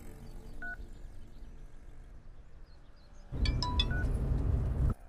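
Several quick telephone keypad tones sound one after another, set against a low hum and followed by a short burst of louder noise.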